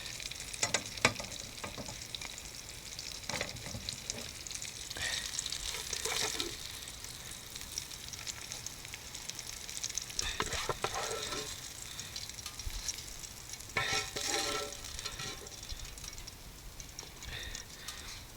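Fish fillets frying in a pan set on logs over a campfire during a bushcraft cooking trip, a steady close sizzle and crackle running throughout with occasional louder bursts of spitting oil.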